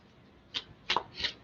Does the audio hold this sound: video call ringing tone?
no